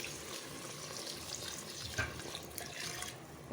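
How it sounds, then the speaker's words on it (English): Water poured into a pot of mutton biryani in a home kitchen, a steady continuous splashing wash with slight sizzle, moderately close and running unbroken with no talk over it. "Then into this, I will pour my water."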